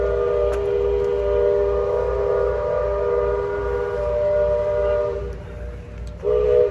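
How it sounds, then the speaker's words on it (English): The Liberty Belle riverboat sounds its halfway whistle at Tom Sawyer Island, one long, steady, loud blast that holds for several seconds, fades, and then gives a brief final toot. "That's the halfway whistle, so I can tell, oh, they're halfway there."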